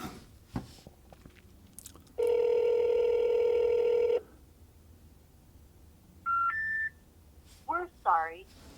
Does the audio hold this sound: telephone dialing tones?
yes